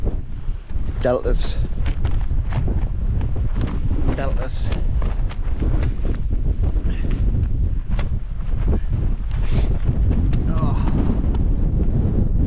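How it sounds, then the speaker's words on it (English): Strong gusting wind buffets a wild camp in the Lake District, roaring and rumbling loudly throughout, with a voice calling out over the gusts. "See how windy it is?"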